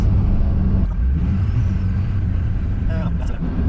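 A Duramax pickup truck driving down a road, a steady loud low engine and road rumble running continuously throughout, close and unbroken.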